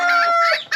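A hen lets out a loud, close clucking call, drawn out and then clipped short by a quick second cluck.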